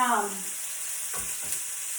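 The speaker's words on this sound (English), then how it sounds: "You hear that? That sizzle? That's good. That's what you want to hear." Chicken fries in a hot pan with a steady sizzle, a dense continuous crackle with a few soft clicks and clatters in the middle.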